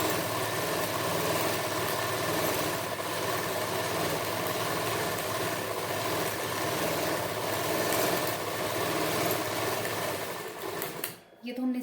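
A sewing machine runs steadily, stitching salwar panels together, its continuous motor hum holding for about ten seconds before it stops abruptly at the end.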